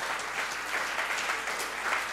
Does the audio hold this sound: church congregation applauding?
yes